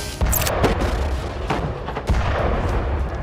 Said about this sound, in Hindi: तभी एक खंडर हो चुके घर से रॉकेट दागा जाता है।